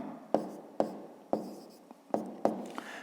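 A pen writes a formula by hand on paper during a fifth-grade maths exercise, giving five or six sharp taps and scratchy strokes spaced about half a second apart, close and fairly quiet.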